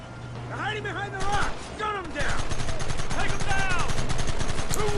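Rapid bursts of gunfire from a Red Dead Redemption shootout on PS4 crackle loudly and continuously, with shouted voices and music layered over the shots.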